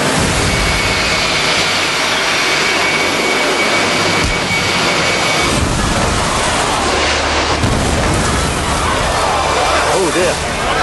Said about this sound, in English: The jet engines whine and strain.